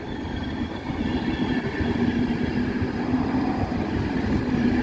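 IC Chopin passenger train cars roll past close by, a loud continuous rumble with steady wheel clatter and a faint squealing tone running through it, with no voices.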